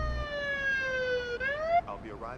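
Police car siren from the Police Simulator: Patrol Officers game, a loud wailing tone that holds, then rises before cutting to a shorter yelping pattern, with faint talk beneath.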